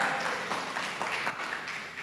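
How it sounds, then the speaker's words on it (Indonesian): Audience applause during an evening team-development class, a short burst of steady clapping at moderate volume without speech. "Nah, tepuk tangan ya."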